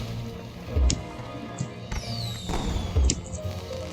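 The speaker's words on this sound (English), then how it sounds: "I got hit by like a single firework" Firework explosions hitting the player in the video game Rock of Ages 2: a few sharp pops with short whistling streaks, over steady game background noise.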